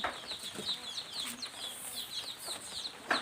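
Chickens fighting cluck and squawk in quick, agitated bursts, with wings flapping amid the flurry, fairly faint and a little distant.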